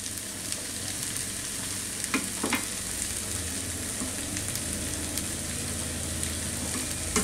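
Rice with tomato sizzles in a pan while being stirred and mixed, a continuous close frying hiss broken by a few scraping clicks, with no voices.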